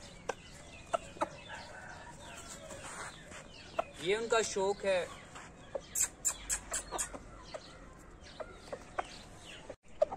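A freshly slaughtered rooster is handled close by, throaty clucking-like sounds in a short run, followed by scattered clicks and taps, with someone speaking briefly.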